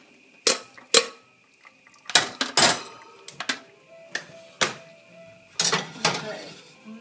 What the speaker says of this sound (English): Drain the vegetables.